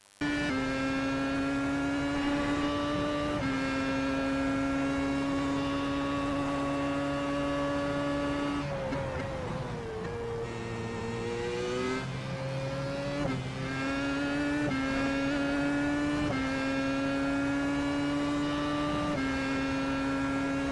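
Williams FW31 Formula 1 car engine at Monza in a racing sim, a steady high-pitched scream held at revs, dipping briefly as the driver backs off the throttle, then climbing through the gears again, loud and alone.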